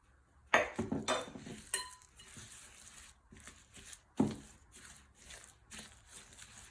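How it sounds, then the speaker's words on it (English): Soft clinks and scrapes of a utensil against a mixing bowl as applesauce is mixed into cupcake batter for peppermint mocha cupcakes. The sound is quiet, with a few sharper knocks among gentle stirring. "Just going to mix this together."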